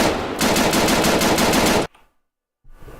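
Rapid automatic fire from an AUG rifle in the Arma 3 video game weapon mod, a loud continuous burst of shots lasting about a second and a half before cutting to near silence, then faint noise returns.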